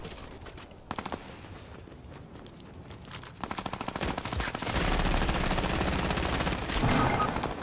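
Fortnite gunfire, starting with scattered sharp single shots, then rapid automatic bursts that swell into louder, denser sustained shooting in the second half, with no speech over it.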